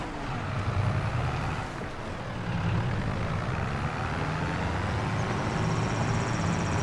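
A tractor in Farming Simulator 22 drags a subsoiler plow through a field, its engine a steady, loud diesel drone with a low rumble that holds throughout, slightly swelling partway in, with no talk over it.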